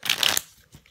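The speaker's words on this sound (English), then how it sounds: "can give it a little bit of shuffle and cut" A deck of playing cards is shuffled in one quick, close riffle burst lasting under half a second, followed by a couple of faint soft taps.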